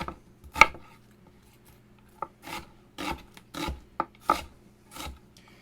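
Vegetables for a homemade soup, including onions, are chopped on a board with a knife, producing a series of close, sharp cuts and scraping strokes spaced unevenly across a quiet kitchen.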